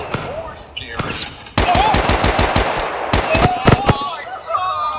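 Rapid automatic gunfire from a Roblox shooter game, a dense burst of loud repeated shots followed by a few more single cracks, with game sound effects between and a voice partly underneath.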